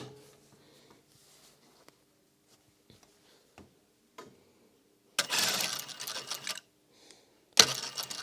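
A sewing machine stitches a pleated fabric face mask, running in two short, fast-whirring bursts after a stretch of near silence broken by small, scattered ticks and clicks.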